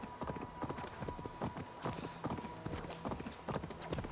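In Assassin's Creed Valhalla, a horse's galloping hooves pound in a fast, steady clip-clop rhythm for several seconds. The hoofbeats stay fairly quiet, with faint ambient game sound beneath them.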